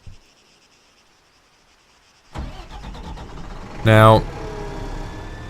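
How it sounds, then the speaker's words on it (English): An AMV-7 Marshall armored vehicle engine in Arma 3 starts with a sudden rumble after a quiet stretch, then settles into a steady running drone with a brief louder surge, while someone speaks over it. "as soon as you move into the gunner's seat, the engine starts"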